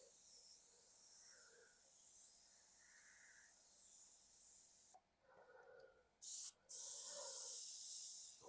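An airbrush spraying paint gives a thin, high hiss that runs in steady bursts, pausing briefly and then resuming loudly near the end, with quiet tonal sounds in the background.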